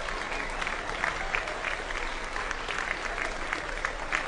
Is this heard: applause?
yes